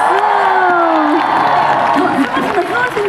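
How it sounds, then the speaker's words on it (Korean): An outdoor festival stage crowd cheers and claps in a broad, steady wash, with a tonal shout or whoop riding over the noise and voices mixed into the din. "박수! 박수!"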